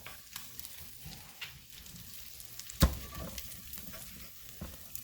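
Ham pieces sizzle in a hot Instant Pot, a soft, steady frying crackle with light stirring scrapes and one sharp clack partway through.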